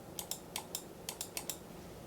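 Eight soft Logitech MX Master 3 mouse clicks and HP Omen Transcend 32 monitor cooling fans: clicks come in pairs at an even pace, faint and close over a low steady hum.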